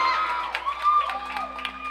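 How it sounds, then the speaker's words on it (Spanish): A small audience at an intimate music session cheers and whoops for the guitarist, with faint scattered clapping and shouts. "fuerte aplauso para él."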